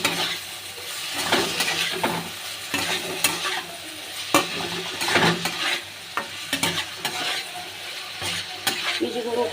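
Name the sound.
green chili and spices being sautéed in a pan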